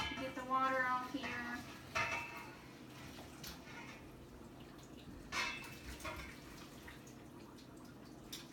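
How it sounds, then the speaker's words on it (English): Cooking water from boiled, fork-tender sweet potatoes is poured off, a brief splashing pour at the start followed by faint drips and small clinks of a pot in a quiet kitchen. "I'm going to drain the potatoes off, get the water off here."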